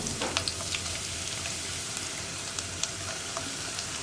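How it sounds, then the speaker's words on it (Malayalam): Sliced onion hits hot oil and fries with a continuous close crackling sizzle, dotted with small pops and occasional scraping stirs, no voices over it. "ഇപ്പോൾ നമ്മുടെ ഓയിൽ ചൂടായിട്ട് നമുക്ക് ആദ്യം ഇതിലേക്ക് സവോള ചേർക്കാം. സവോള ചേർത്തിട്ട് ഒന്ന് ഫ്രൈ ചെയ്തെടുക്കാം."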